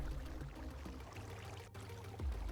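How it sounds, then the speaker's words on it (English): Water placed in corners and flowing across stone blocks in Minecraft, a soft, steady pouring and streaming wash, quiet and continuous with a low rumble, no voices. "Let's put the water in these corners so that it flows in the direction that we want it to."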